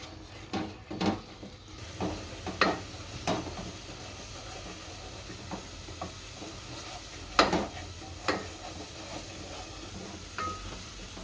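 Bajra flour khichu is stirred in a pot: irregular scraping knocks of a spoon against the pot, some sharp and loud, over a low steady hiss of steam and bubbling.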